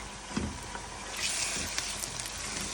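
Mutton liver (kaleji) frying with garlic-ginger paste gives a soft, steady sizzle and crackle with occasional small pops, faint and close, with no talk over it.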